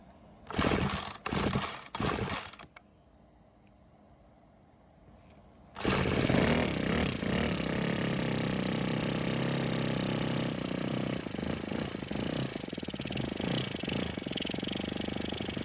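A Ryobi string trimmer gets a few quick rattling pull-cord yanks, then a short quiet pause, then its small engine catches and runs loud and steady, close by.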